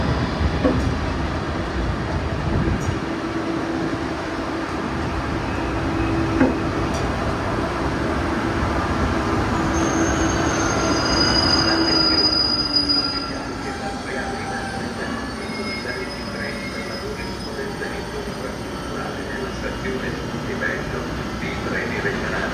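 A train rumbles in close and slows at a station platform in Padova, its wheels letting out a high metallic squeal that rises and lingers as it comes to a stop.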